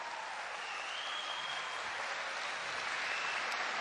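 A church congregation applauds during a Catholic service, a dense, steady wash of clapping heard at moderate distance with no break across the whole stretch.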